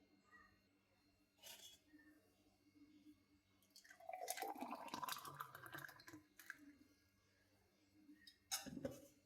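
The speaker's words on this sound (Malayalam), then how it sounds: "അങ്ങനെ ഗ്ലാസ്സിലോട്ട് നമ്മുടെ പച്ചമാങ്ങ ജ്യൂസ് ഒഴിച്ചിട്ടുണ്ട്." Raw green mango juice pours into a glass in a steady liquid stream that rises in pitch as the glass fills, framed by a few brief clinks; faint background noise and no clear talk.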